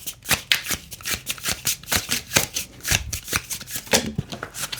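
Tarot cards being shuffled by hand, a loud, close run of rapid riffling flutters and slaps in an uneven rhythm that continues through the whole stretch with no talking over it.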